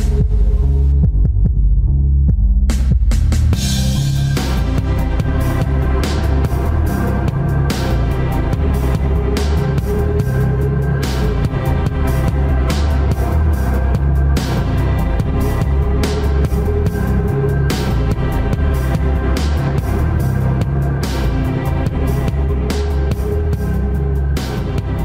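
A heartbeat sound effect in a song pulses in a steady, loud, rhythmic throb over a humming musical backdrop. The beat runs continuously after a brief quieter opening.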